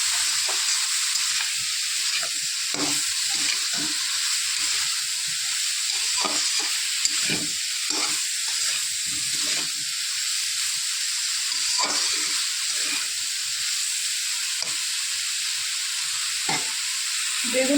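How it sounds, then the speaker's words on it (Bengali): Eggplant fries in oil in a pan, with a steady bright sizzle and hiss running throughout, close and loud, broken by occasional soft stirring knocks and no voices. "বেগুনটা হালকা লাল লাল করে ভেজে নেব"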